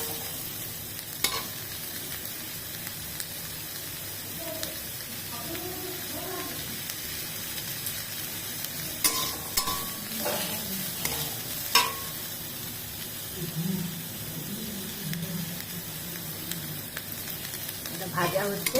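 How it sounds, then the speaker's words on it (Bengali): A small amount of chilli frying and being stirred in a pan with very little oil, giving a soft, steady sizzle with occasional scraping strokes, fairly quiet and close. "এটা ভাজা হচ্ছে, আরো একটু ভাজা হবে"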